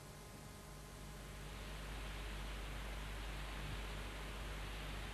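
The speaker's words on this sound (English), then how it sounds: "that is the sound of the Big Bang still echoing around the universe" A steady, even hiss of cosmic microwave background radio static fills the whole stretch, broad and unchanging, with a faint low hum beneath it.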